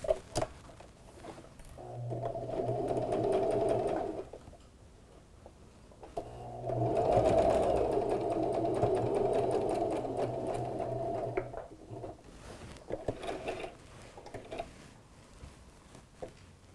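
Pieces of fabric for a first aid pouch run through a sewing machine in two close, steady bursts of whirring stitching separated by a short pause, with light handling noise and no talk.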